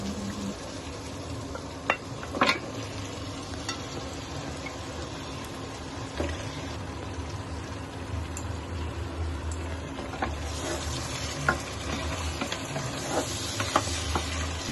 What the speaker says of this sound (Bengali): হাই হিটে পায়াগুলি কষিয়ে নিই